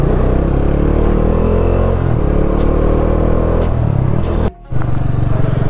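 A motorcycle engine runs steadily and loudly close by, its throbbing note rising and falling as it revs, with a brief sharp cutout near the end before the engine picks up again.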